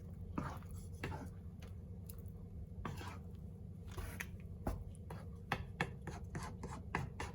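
A spoon stirs a pot of plant-based vegetable chilli with the veg cooking down, making repeated soft scraping and rubbing strokes against the pan in an irregular rhythm, close and moderately quiet over a steady low background hum.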